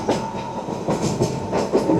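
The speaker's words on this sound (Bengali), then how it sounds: "নির্ধারিত সময়ের মধ্যে আমাদের ট্রেন প্রবেশ করছে শিলিগুড়ি জংশন স্টেশনে" A narrow-gauge toy train rolls into Siliguri Junction station, giving a steady rhythmic clatter of wheels on rail joints with repeated louder clacks over a constant rumble.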